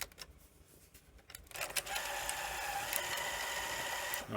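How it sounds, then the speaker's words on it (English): A Sony SL-C20 Betamax video recorder powers on and runs. A quiet start gives way to a steady mechanical whir and clatter of the tape transport, close and continuous, with no talk. "it's sounding better. Oh yeah, it's a lot better."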